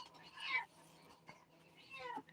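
A person mimics cat meows, making two short, fairly quiet meows about two seconds apart, with faint breathy vocal sounds between them.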